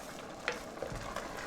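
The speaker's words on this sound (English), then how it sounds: "And we stirring. We still stirring." A spoon stirs a healthy gumbo roux in a pot, making soft scraping strokes over a faint, steady sizzle. It is heard up close and quietly, with no talking.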